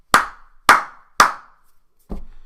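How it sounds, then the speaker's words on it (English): Three loud, sharp hand claps in a steady rhythm, close to the microphone, followed by a duller thud. "I just clap 3 times loudly."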